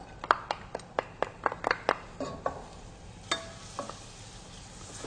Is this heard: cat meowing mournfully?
no